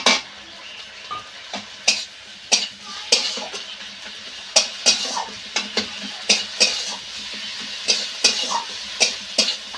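Ginger garlic paste cooking down with fried onion in a pan, with repeated sharp clinks and scrapes of a spoon stirring against the pan over a low steady sizzle.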